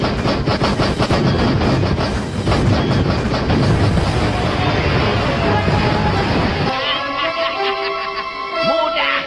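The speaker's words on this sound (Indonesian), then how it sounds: "Tembakan meriam" Heavy booming cannon fire rumbles continuously and loudly, then cuts off, leaving ringing tones and scattered clanks.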